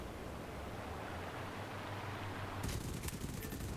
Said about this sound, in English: Spit and I both open fire.